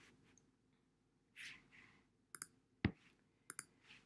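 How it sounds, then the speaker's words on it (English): A computer mouse on a Mac gives a few sharp clicks, one of them louder, mixed with soft breaths and shuffling in a quiet room. "we're going to click sign in."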